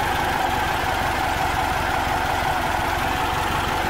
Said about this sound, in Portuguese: Só pra gente mostrar pro pessoal a saúde desse motor.